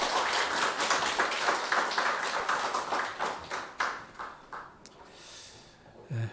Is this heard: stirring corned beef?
no